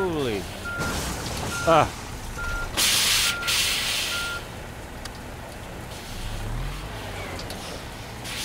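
Truck reversing beeps in a truck simulator game, a steady series of evenly spaced electronic beeps over engine rumble and a loud air-brake hiss, with a brief voice exclamation.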